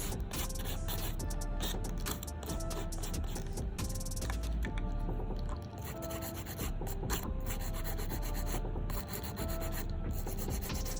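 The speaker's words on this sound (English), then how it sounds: "Now for my drills, my drill bit sanding bands, I use fine." A nail drill fitted with a fine sanding band roughs up the natural nail on a nail trainer hand before tips are glued on, making a steady continuous rubbing, grinding whir that runs loud and close throughout.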